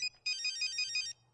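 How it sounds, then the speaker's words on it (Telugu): A mobile phone rings with a quick repeating electronic ringtone, a short burst of bright, evenly pulsed tones at moderate loudness with near silence around it. "ప్రియా నీ మొబైల్."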